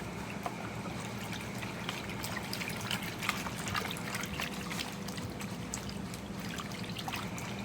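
Water pours and trickles steadily into a basin of bleach solution for soaking a white shirt, a continuous close splashing stream with no voices.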